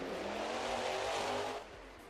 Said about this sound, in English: Slowly backing the truck up.